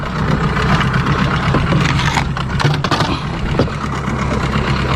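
A boat engine runs steadily, a loud, rough, continuous rumble close by with a little clatter, with no voices.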